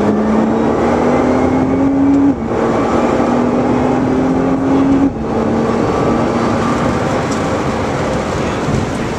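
A Nissan GT-R accelerating on Knockhill track: loud, steady engine drone with a rising pitched whine that climbs, drops at gear changes, then climbs again; continuous and close, no talking.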